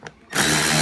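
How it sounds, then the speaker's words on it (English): A power driver spins up on a Torx screw on a car repair bench, a short light click followed by a loud, steady, close whir that starts abruptly and holds. "I like Torx because even if you're in a bad angle, he still grabs it and goes, Mikey."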